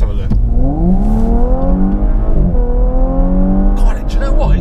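Audi S5 V6 engine accelerating hard through gears, loud and close, with rising engine tones that dip at a shift and climb again, and a voice briefly heard near the end.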